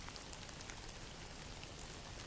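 Steady rain falls alone in an even, continuous hiss with scattered drop patters, soft and constant throughout.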